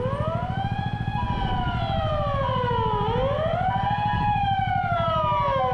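A wailing ambulance siren sweeps up and down continuously as it passes through traffic in Yokohama, loud and near, with a steady engine rumble beneath it.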